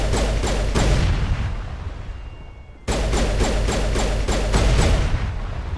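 Rapid bursts of gunfire in Mass Effect 1 as objects are shot, dense repeated shots over a low rumble, a brief lull, then a fresh loud volley.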